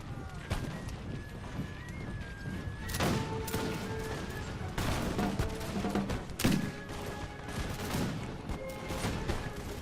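Infantry musket volleys crackle in a Napoleon: Total War online battle, repeated bursts of massed gunfire with scattered shots and battlefield clatter, moderately loud and continuous under game sounds.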